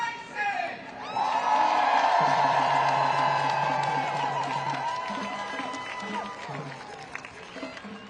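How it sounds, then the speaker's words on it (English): A crowd at an anti-Trump 'Hands Off!' protest in Los Angeles cheers and whoops for a speaker. Whistles and shouts swell, then taper into scattered calls. "Let's give a huge round of applause for Anthony Bryson!"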